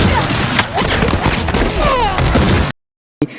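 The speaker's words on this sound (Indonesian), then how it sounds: "Keberadaan Ersel segera diketahui dan baku tembak pun tak bisa dihindari." A gunfight in an action film: rapid bursts of gunfire mixed with thuds and crashing impacts, loud and dense, stopping abruptly in silence before one last brief hit.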